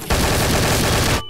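Rapid automatic gunfire in Garry's Mod, a dense loud burst of shots lasting just over a second before cutting off abruptly.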